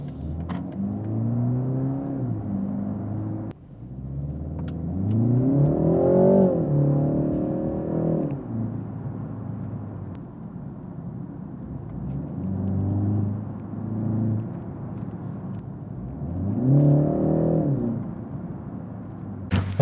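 A BMW engine with active sound design switched on and the exhaust flap set to auto, revving in repeated swells of rising and falling engine note heard from inside the cabin, with a steady rumble between the pulls.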